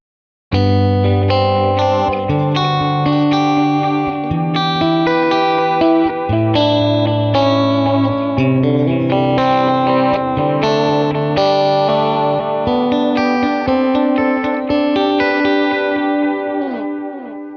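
An electric guitar played through a delay pedal rings out a melodic line with layered repeats and a chorus-like shimmer, loud and sustained, with no voices over it.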